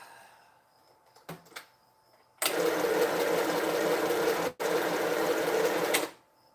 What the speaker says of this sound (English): we're just going to have to sew this one on, aren't we?